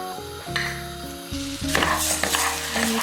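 Rice and coarsely chopped onion toasting in oil while being stirred, a sizzling, scraping texture that swells midway, heard under prominent background music.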